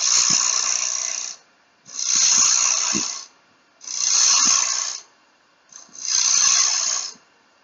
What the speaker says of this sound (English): So I will just nibble away with the bowl gouge here.